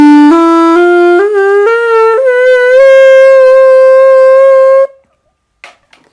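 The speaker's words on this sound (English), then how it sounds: "C, this is quite difficult to make sound." Homemade plastic saxophone blown loud and close, sliding and stepping upward through several notes to settle on a long held C, then cutting off into near silence.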